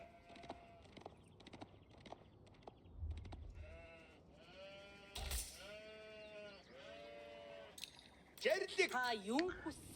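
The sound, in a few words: sheep bleating in the video game Age of Empires 4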